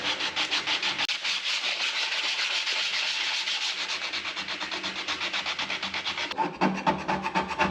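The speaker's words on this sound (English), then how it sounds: "taking this 36 grit that we had from the floor sander and just using it to try to slowly work at it" Hand sanding of a stained wood floor with 36 grit floor-sander paper, a close, steady rhythmic scraping rasp of back-and-forth strokes, alone without talking.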